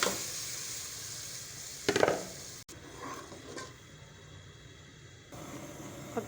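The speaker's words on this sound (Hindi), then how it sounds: "रहीम, ये हमारी सारी प्यूरी चली जाएगी इसके अंदर" Tomato puree poured into a pan of ground spices on the stove for pizza sauce, a quiet steady sizzle with a short burst of clatter and stirring partway through.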